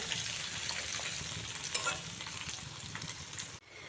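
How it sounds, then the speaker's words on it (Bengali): Onions fry in a pan for a mushroom curry, giving a steady, dense sizzle and crackle that holds close and loud throughout, with faint stirring and a brief drop near the end. "পেঁয়াজগুলো লাল লাল করে ভেজে নেব তারপর মাশরুমগুলো দেব"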